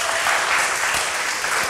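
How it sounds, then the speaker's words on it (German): Brief, steady burst of crowd applause at a PowerPoint karaoke event, loud and continuous for under two seconds. "Und jetzt bitte den Applaus für die fünfte Präsentation."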